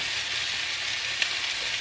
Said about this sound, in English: So we're going to go ahead and get these over into the pan.